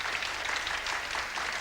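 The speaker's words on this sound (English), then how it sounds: "Give him a clap as he goes." Steady applause from an audience at a 1988 spook show, filling the short moment evenly without a break, with no voices standing out above the clapping.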